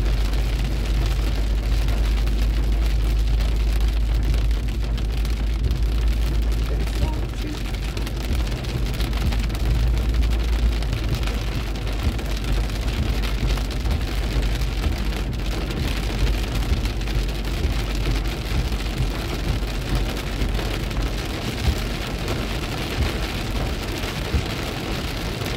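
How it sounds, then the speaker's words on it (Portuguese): Heavy rain pours down steadily, a dense, continuous hiss with a low rumble underneath, loud and unbroken throughout. "tá chovendo forte, hein?"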